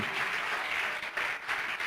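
A church congregation claps in steady, even applause throughout, fairly quiet and diffuse as if heard from across the room, with no talking over it.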